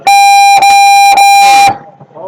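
A loud, harmonic electronic buzzer at a live sport shooting event sounds in three long blasts broken by brief gaps, then stops, followed by faint background noise.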